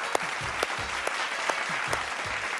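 An audience claps in a fairly quiet, sparse round, with individual claps standing out at irregular intervals over a soft background murmur.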